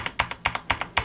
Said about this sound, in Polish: i tak brzmi ten kick-up z gumką